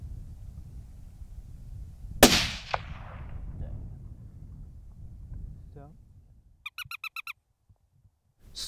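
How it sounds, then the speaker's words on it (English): A loud Kimber Montana .243 rifle shot cracks sharply during a night fox hunt on Skye, its report fading into a rumble. A few seconds later a high, rapid squeaking call used to lure foxes comes in short bursts. "Squeaking again finally gives Scott the chance he's been waiting for."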